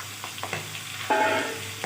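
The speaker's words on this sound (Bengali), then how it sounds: "মাছটা লবণ হলুদ দিয়ে মেখে এখন ভাজা বসিয়ে দিয়েছি মাছটা প্রথমে ভেজে নেব" Large pond tangra fish rubbed with salt and turmeric fries in a pan, a close, steady sizzle with light stirring taps that swells louder near the end.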